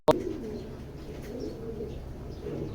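A female masala pigeon coos softly after release, with a sharp flutter or click at the start followed by low, steady cooing close by.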